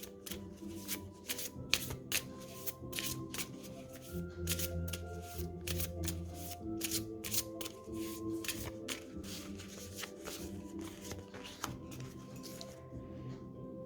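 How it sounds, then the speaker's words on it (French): Oracle cards from the Guidance de l'univers féerique deck are shuffled and drawn by hand: a steady stream of soft, close riffling and sliding card noise with repeated crisp flicks, continuing without talk. "Alors, on va tout de suite tirer une deuxième carte."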